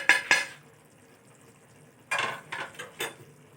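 Spices being stirred into a pea and minced-meat curry in a pan, a few short scraping strokes at the start and a cluster of scrapes near the end, faint and close with quiet gaps between.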